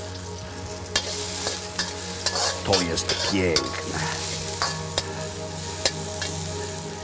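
Garlic chunks sizzle and fry steadily in a hot pan with occasional stirring clinks, while someone talks briefly over the sizzle.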